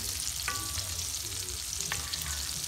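Sausages frying in a large Le Creuset round enamelled cast-iron French oven, a low, even sizzle with a couple of faint clinks, fairly quiet throughout with no voices.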